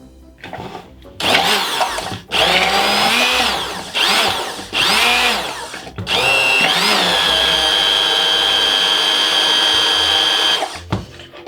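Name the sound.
immersion blender emulsifying ganache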